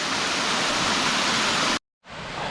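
Steady broadband roar of a waterfall along a hiking trail at Green Mountain Nature Preserve's Alum Hollow in Huntsville, loud and close, cutting out briefly before resuming.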